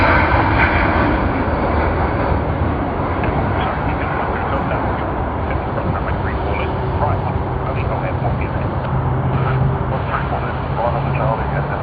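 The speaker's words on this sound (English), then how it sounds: "there it is, SQ232 Singapore Airlines A380 from Sydney to Singapore Changi International Airport" A Singapore Airlines A380 at Sydney Airport gives off a loud, continuous jet engine roar that holds steady throughout, broad and rumbling, with a voice commentating over it.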